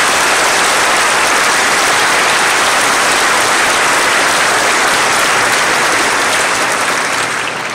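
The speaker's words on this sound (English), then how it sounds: "how about a round of applause for our amazing U.S. Navy band?" Dense, steady applause from an audience at a naval air station change of command ceremony, honoring the U.S. Navy band, loud and sustained without pause.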